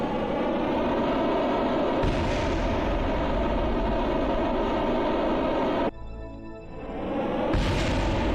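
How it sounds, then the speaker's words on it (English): Rocket parts blowing apart in Kerbal Space Program, a loud sustained rumbling roar of explosions with crackling bursts, briefly dropping out near the end before the roar swells back. "Whoa, everything's exploding."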